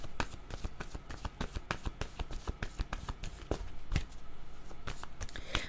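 A deck of cards is shuffled before a card is drawn. Close, dense riffling clicks and soft slaps keep up a brisk, uneven rhythm throughout.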